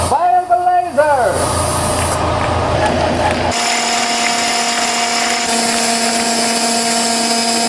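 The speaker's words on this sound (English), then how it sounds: "Fire the laser!" A laser cutter cuts and etches parts for a laptop stand, with its compressor air assist and HEPA filter fans running. The start brings a loud shifting mechanical whine with voices over it, then a steady droning hum with high tonal whine.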